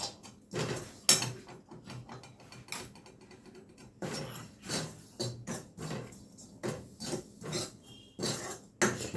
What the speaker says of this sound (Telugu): కొన్ని జీడిపప్పులు వేసుకొని దీంట్లో వేడి చేస్తున్నానండి